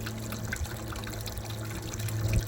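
Muddy water runs down the levels of a pump-fed backyard fountain, a close, continuous trickle and splash over a low steady hum, with no talking.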